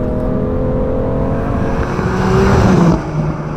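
A 600 hp 2020 BMW M2 Competition is driven fast, with a loud, steady engine drone and road roar heard from inside the cabin that swells briefly before easing off.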